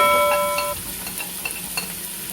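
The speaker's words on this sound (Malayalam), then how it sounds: "ഇനി അതിലേക്ക് നമുക്ക് സവാള അരിഞ്ഞത്, ചെറുതായിട്ട് അരിഞ്ഞതാണ്, അത് അരിഞ്ഞിടുക" Finely chopped onions sautéing in hot oil for chicken curry, a steady close sizzle with a few light stirring scrapes and clicks, a brief tonal beep at the start, no voices.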